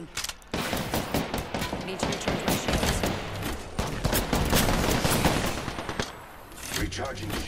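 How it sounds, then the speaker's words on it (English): Sustained video game gunfire, dense rapid bursts of automatic shots from an online shooter, loud and continuous throughout with a player talking over the shooting. "I am taking fire from him."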